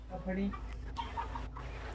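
Brown Lohmann hens clucking nearby with short, choppy calls, mixed with a low background hum and a few sharp knocks.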